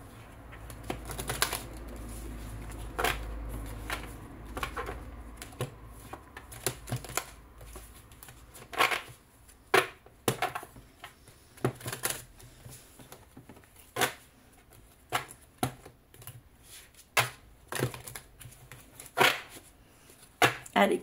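Oracle cards being shuffled by hand in a quiet room during a reading, with repeated soft riffles and sharper card slaps scattered irregularly over about twenty seconds.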